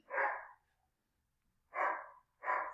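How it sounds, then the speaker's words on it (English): Three short barks from a single dog, one then a pause and two quicker ones, clear and fairly close in a quiet setting. "Sorry if you guys can hear my dog barking in the background."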